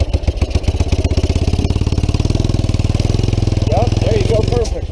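A three-wheeler engine chugs steadily as it is ridden uphill, a close, loud, rhythmic throbbing putter with even pulses throughout, while a voice talks over it near the end.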